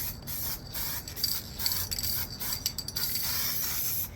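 Light, thin coats of spray paint misted onto a foam FMS 1500mm P-47 Bonnie model plane, soft broadband hiss in short bursts with brief pauses between passes, close by and fairly quiet.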